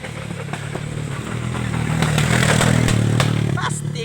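A motorcycle speeds past on a road, its engine loud and close, rising to a peak around the middle and then easing off as it passes.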